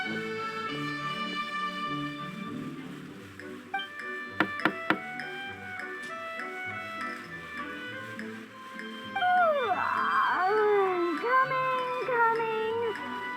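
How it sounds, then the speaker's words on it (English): A door knocked on in the video game Genshin Impact, a quick cluster of sharp raps amid soft game music, followed by a voiced in-game reply. "Okay, I'll go knock on the door."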